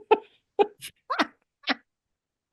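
Dog making a series of short snorting, sneezy huffs and a small whine, about six brief bursts spaced irregularly, close to the microphone with quiet gaps between.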